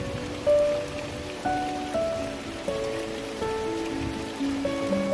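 Steady rain patters on a surface in a garden, with a few tonal hums and pitched sounds layered over the constant wash.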